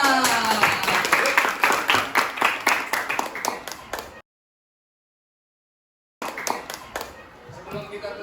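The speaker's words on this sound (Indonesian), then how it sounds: "Tepuk tangan." A class claps together in a school lesson, loud rhythmic hand claps close by in quick succession, then a gap of silence before more clapping and chatter resume.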